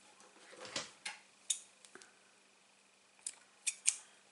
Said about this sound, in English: And then I'm going to cut a little bit off.